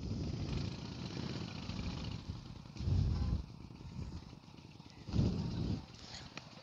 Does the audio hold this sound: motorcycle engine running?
yes